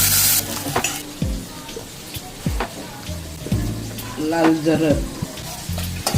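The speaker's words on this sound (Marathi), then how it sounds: "फोडणी द्यायची कांद्याची. कांदा लाल होईपर्यंत भाजायचा" Onions fry in hot oil for a fish curry, crackling and sizzling as a spatula scrapes and stirs the pan in repeated strokes; someone speaks briefly over the cooking.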